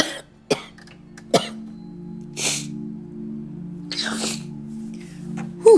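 Several sharp, harsh coughs come in separate bursts against a low hum, with quieter breathy noises between them.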